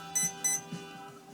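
Electronic speed controller emitting calibration tones through a servo tester: two short, high, clean beeps in quick succession, then a couple of faint low blips, close and alone over a quiet electrical hum.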